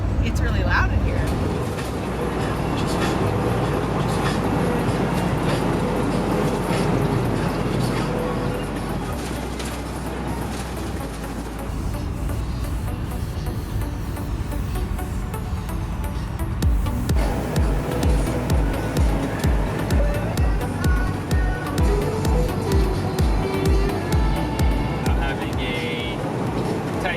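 Loud, steady road noise fills the cabin of a rented RV driving down the road, a constant low rumble with rattles, while people talk over it throughout.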